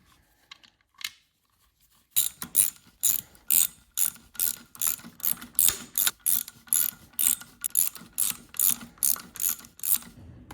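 A ratchet wrench tightens a nut on the engine of a rare, heavily smoking Honda dirt bike, torqued to about 47 foot-pounds. After a quiet start comes a long run of loud, close, rhythmic ratcheting clicks in regular strokes.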